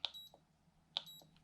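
Two short electronic beeps from button presses on a digital folding fishing scale, spaced about a second apart, quiet and close.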